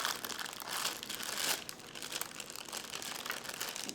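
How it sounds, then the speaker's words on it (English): Someone tugs at a plastic bag, producing a continuous stream of crinkling and rustling, quiet and close, with no talking. "Now I can open this bag."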